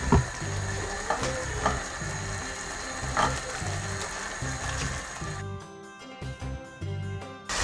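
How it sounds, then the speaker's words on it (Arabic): Onion with coriander and parsley frying in a pan for a Moroccan white bean and sea bream dish, a steady close sizzle with rhythmic scraping stirs, briefly quieter near the end. "كنخليوها تقلى تتشرب مزيان"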